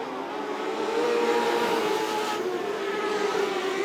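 Modlites race cars at Archerfield Speedway roar around the track, a sustained, fairly loud engine drone that swells slightly as the cars push on.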